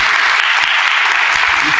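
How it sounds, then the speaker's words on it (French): Sustained applause from an audience at a school event, dense and steady throughout, with some talk mixed in beneath the clapping. "Félicitations encore à vous et des applaudissements"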